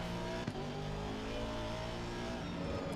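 An Aston Martin V8 Vantage GT3 racing at Spa in Assetto Corsa Competizione roars at high revs, a loud continuous engine drone with dense harmonics, a brief shift blip early on, then sustained pull.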